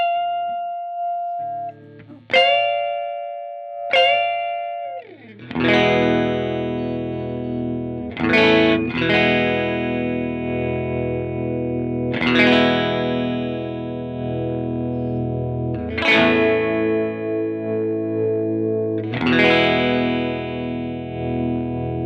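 Electric guitar through an Empress Effects Compressor MKII set to a 10-to-1 ratio, a few plucked notes and then strummed chords ringing out, close and even in level, with a slight warble in volume.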